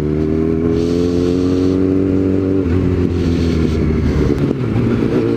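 A Yamaha FZ8 motorcycle engine revving nearby, a loud, steady growl that rises and shifts in pitch, with some mechanical clatter under it.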